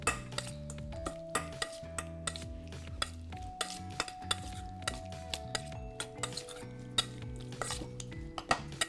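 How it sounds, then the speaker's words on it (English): A spoon stirs a salted lemon-juice mixture in a bowl, scraping and clinking against the sides in a steady rhythm of close, sharp taps. "So I'm gonna give this a nice mix."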